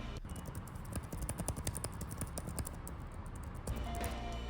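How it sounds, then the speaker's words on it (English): Someone types on a laptop's chiclet keyboard, the keys giving a quick, uneven run of crisp, light clicks close up, with no one speaking. "The chiclet keys have good travel feedback with satisfying sound."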